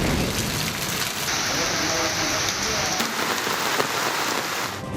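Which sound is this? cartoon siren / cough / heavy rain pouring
heavy rain pouring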